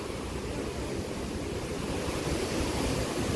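Fast-flowing river water near Mana village, Badrinath: a dense, continuous rushing roar, close and steady, with no voices.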